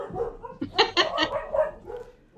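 Several dogs bark in a quick burst of overlapping yips and woofs close by, with a brief whimper, and no talk over them.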